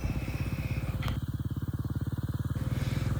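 A 250 dirt bike engine holds a wheelie, its single-cylinder exhaust chattering in a fast, even pulse up close, with a brief sharp click near the one-second mark before the steady beat settles in.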